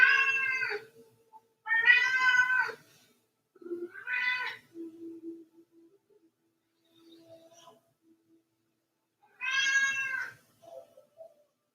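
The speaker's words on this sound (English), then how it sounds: "This is my cat, Phoenix." A cat meows indoors during a quiet yoga session, giving several loud, drawn-out calls and a few softer chirps and murmurs separated by silences, close to the microphone.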